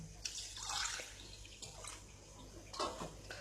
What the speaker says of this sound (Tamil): இந்த அரிசியை வந்து ஒரே ஒரு தடவை வாஷ் பண்ணிவிட்டு நம்ம அதை ஊற வச்சிடலாம்